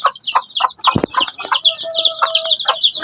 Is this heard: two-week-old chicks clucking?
yes